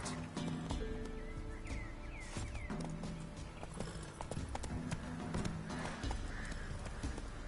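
Horse hooves clip-clop steadily in The Witcher 3, a brisk rhythmic gait of repeated close impacts over a constant ambient game background.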